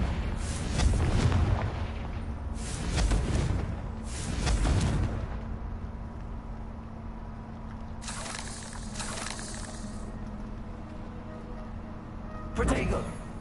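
Confringo blasting spell explosions in Hogwarts Legacy land as a run of loud, deep booms, three big bursts in the first five seconds and a sharper blast near the end. A hissing spray sits under the middle stretch.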